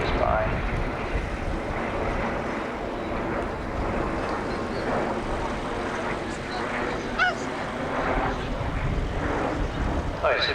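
A formation of Vulcan bombers flies past at the 1989 RAF Scampton airshow, a broad continuous jet roar mixed with wind buffeting on the microphone, moderately loud and steady throughout.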